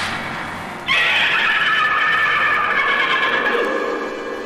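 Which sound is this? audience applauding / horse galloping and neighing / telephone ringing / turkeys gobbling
horse galloping and neighing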